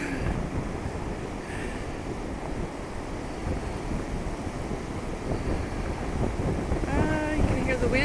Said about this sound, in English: You can hear the winds picking up. That's the winds of the water from Lake Huron.